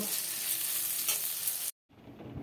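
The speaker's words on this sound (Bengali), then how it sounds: "এখানে উচ্ছেটা ভাজা হচ্ছে" Bitter gourd slices frying in a pan give a steady close sizzle with stirring scrapes, broken by a brief silent cut before the frying resumes a little quieter.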